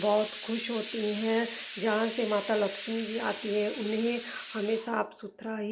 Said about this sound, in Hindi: सॉरी अगर आपको कुकर की आवाज़ डिस्टर्ब कर रही हो